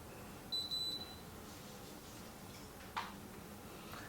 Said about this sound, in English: it beeps when it wants you to release it